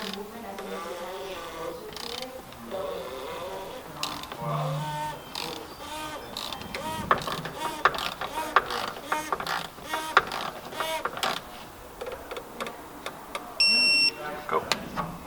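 Torque wrench clicking and ratcheting as it tightens the oil drain plug on a 2019 Mercedes GLA250, busy mechanical clatter with brief beeps near the end, under intermittent talk.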